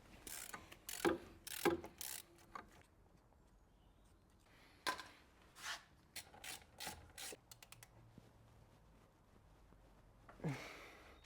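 Someone tightens a brake line on a BMW E61 525d wagon, producing sparse, quiet metallic clicks and scraping tool contacts in scattered clusters with stretches of near silence between them.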